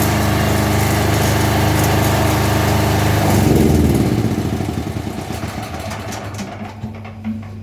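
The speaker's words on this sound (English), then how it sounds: "I'm about to turn off the engine." A small petrol generator engine runs loudly and steadily nearby, then winds down over a few seconds with sputtering chugs until it stops.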